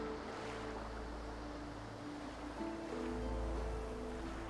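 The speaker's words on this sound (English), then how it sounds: "A few tranquil moments pass as the waves lap" Ocean waves lap continuously at a shoreline in the fantasy role-playing game Divinity: Original Sin 2, a steady washing surf with a wind-like hiss under a low sustained musical drone, and no voices.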